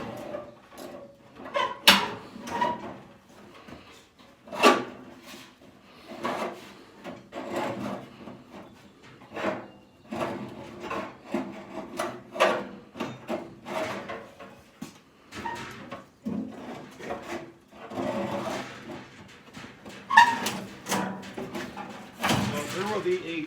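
A furnace blower is slid back along its rails, producing repeated wooden-sounding scrapes, knocks and sliding rubs, close by, with a person talking intermittently over the work.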